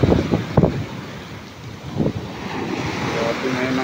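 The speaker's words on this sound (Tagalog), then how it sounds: "ang lalaki ng alon na guys" Ocean waves surge and crash nearby amid gusty wind buffeting the microphone, with rushing surf filling the pauses.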